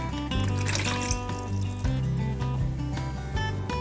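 Water poured from a cup into a mixing bowl of strained yogurt and sunflower oil for cheese bread dough, a steady close splashing pour lasting a few seconds with no talk.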